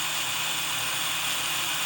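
A drill bores through a metal rod being turned into chainmail jump rings, giving a steady, continuous whirring grind that stays close and fairly loud for the whole short stretch.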